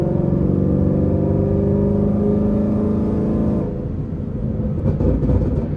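An automatic car driven with paddle shifters, engine held at a steady, loud, droning hum that drops in pitch and level partway through, like an upshift or lift-off, then carries on rumbling.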